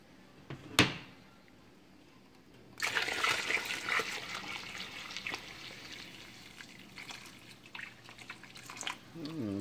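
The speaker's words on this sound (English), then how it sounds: "I'm just going to add a little bit of water." Water is poured into a pot of simmering Mexican menudo, a sudden splashing rush after a sharp clink. The pour continues with uneven trickling and dripping, close but fairly quiet.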